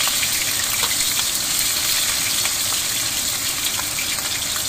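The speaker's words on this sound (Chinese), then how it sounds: "倒入大豆油，加入葱姜蒜干辣椒花椒" Scallion, ginger, garlic, dried chili and Sichuan pepper fry in hot soybean oil, giving a steady, close crackling sizzle with faint popping throughout, no voices.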